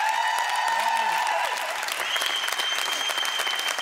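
A studio audience at The Biggest Loser 2024 final breaks into loud, continuous applause for a contestant, a thick wash of clapping holding steady from start to finish.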